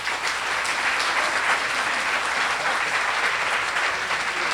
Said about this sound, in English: Another round of applause for Ian.